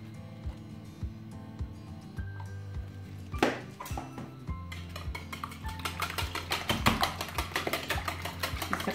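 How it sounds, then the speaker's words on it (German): Eggs seasoned with salt and pepper are whisked in a bowl with a utensil, first with scattered clinks and knocks, then a quick, steady run of rhythmic taps against the bowl, close by. "kann ich die Eier mit Salz und Pfeffer würzen und zusammenrühren"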